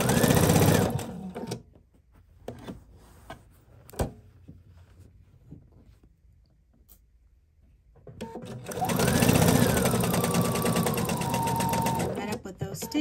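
A sewing machine stitches a quilted heart made from a recycled quilt, with a fast, close mechanical whirr in two runs separated by a quiet pause containing soft clicks and handling noises.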